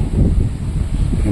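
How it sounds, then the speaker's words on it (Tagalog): Strong outdoor wind rushing steadily with a dense low buffeting roar against the microphone, no voices in this moment. "Lakas ang hangin."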